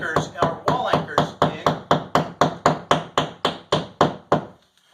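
A hammer tapping plastic wall anchors into pilot holes in a wall while mounting a whiteboard, about fifteen evenly spaced sharp knocks in a quick steady rhythm, close and loud, ending in a brief silence.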